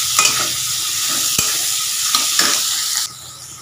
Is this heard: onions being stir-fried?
yes